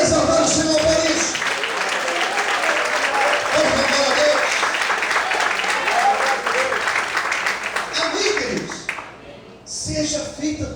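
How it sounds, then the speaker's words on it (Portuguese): A church congregation applauds in praise, a long, full burst of clapping with voices mixed in that gradually thins out, followed by speech near the end. "Você pode aplaudir e exaltar o Senhor por isso."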